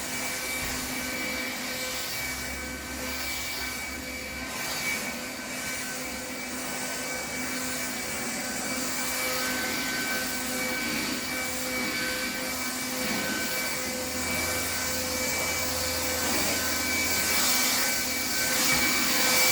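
A leaf blower clearing leaves off a front porch and walkway, a steady loud roaring whoosh that holds at a constant level and swells slightly toward the end, with no talking.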